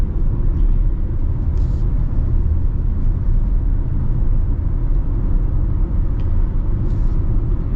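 A Dodge Hornet with a 6-speed transmission accelerating in sport mode, heard from inside as a loud, steady low engine and road rumble with no clear rise or gear changes.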